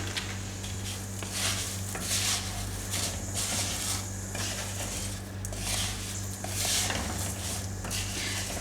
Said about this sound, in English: I'll roast it for a little while so that it heats up nice and proper and mixes well with the ghee